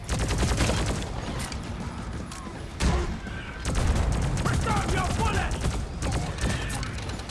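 A shotgun fires in Deep Rock Galactic amid dense, loud continuous gunfire and booms in a chaotic battle, blasts overlapping rapidly with people talking underneath.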